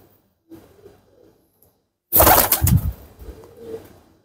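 An Aseel pigeon coos softly a few times, followed by a loud burst of fluttering or scuffling, then quieter low cooing.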